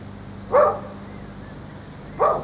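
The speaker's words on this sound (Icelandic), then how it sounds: "Nú heyri ég aftur í hundunum." Dogs barking in the distance, two short bursts about a second and a half apart over steady background hum, with no one speaking.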